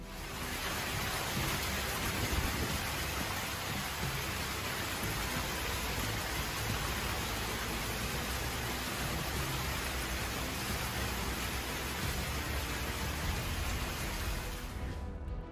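Typhoon rain pouring down at a Japanese airport during a thunderstorm, a dense, loud, unbroken roar of heavy rainfall with deep rumbling mixed in, cutting off abruptly at the end.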